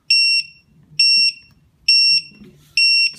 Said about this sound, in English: that's a surefire way to see that the low voltage alarm is working